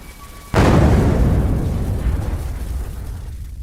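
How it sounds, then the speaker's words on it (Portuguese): A sudden loud explosion bursts out, followed by a long, heavy rumbling roar that slowly fades. "A explosão abala toda a área."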